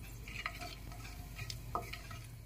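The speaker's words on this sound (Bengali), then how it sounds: "ফোড়নটাকে নেড়ে চেড়ে একটু ভেজে নিতে হবে।" Whole spices frying in hot oil over a high gas flame for chicken kosha, a steady close sizzle broken by a few scraping stirs of a spoon against the pan.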